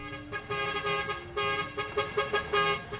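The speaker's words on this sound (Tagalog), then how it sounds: "nagdadakol ang mga lunadang nagpapakabit ng rapid horns na may manay-lain na sound" A vehicle fitted with a modified rapid horn sounds a quick string of short, loud toots in an uneven rhythm, close by and with no voices.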